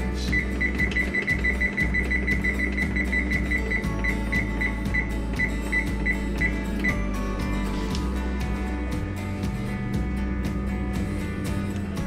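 An oven timer gives a steady run of evenly spaced electronic beeps for several seconds and then stops, over a constant kitchen hum.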